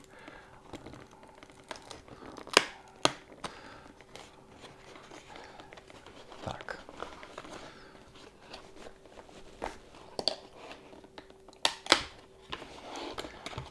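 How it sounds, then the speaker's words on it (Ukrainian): An inner box is shaken and worked out of a snug outer cardboard box for a ddHiFi BC130 Pro headphone cable, giving scattered cardboard scrapes, crinkles and sharp knocks close up at quiet levels. "зараз я спробую її витрусити і не розтрощити зовнішню коробочку, тому що доволі плотно прилягає"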